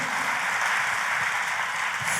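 A church congregation applauds during an Indonesian sermon, a steady, dense wash of clapping held at an even level throughout the short stretch with no talk over it.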